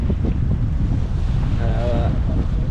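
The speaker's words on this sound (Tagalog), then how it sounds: "Ang lakas kasi ng hangin guys." Loud, buffeting wind roars against the microphone at a lakeside camp in Alberta, with a brief voice murmuring faintly under the gusts.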